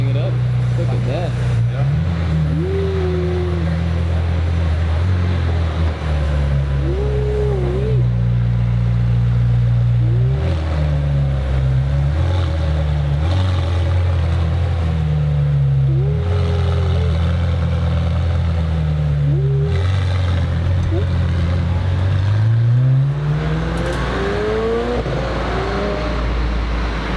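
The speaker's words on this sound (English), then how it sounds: "that was a McLaren Senna, a startup" A McLaren Senna supercar starting up and idling, then revving repeatedly in sharp rising blips that fall back to a deep burbling idle, loud and close throughout.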